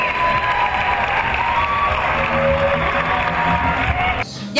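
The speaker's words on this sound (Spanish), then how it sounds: "¡Aplaudimos!" A festive youth gathering's audience bursts into applause with cheering and whoops, a loud, sustained crowd roar with scattered shouting that drops slightly near the end.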